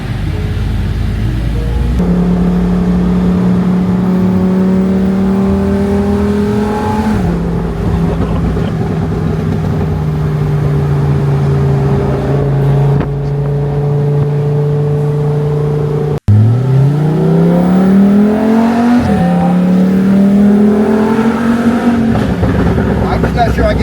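A Lamborghini Huracan Performante driven hard on a winding mountain road, its engine droning loudly and steadily, the pitch rising and falling through gear changes with a sharp shift and climbing rev near the end, heard from inside the car.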